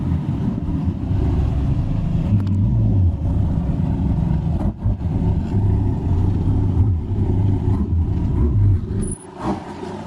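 A Dodge Viper's engine rumbles low and continuously as the car is driven up into an ATC Quest enclosed trailer, a heavy, close idle with small surges of throttle and no talking.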